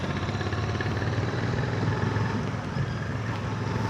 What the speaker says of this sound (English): I hope the engine noise is a lot clearer on this one.